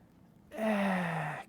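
A single deep breath drawn in during a beginner qigong Eight Pieces of Brocade session: a short breathy rush with a voiced, sigh-like tone, close to the mic after a moment of near silence.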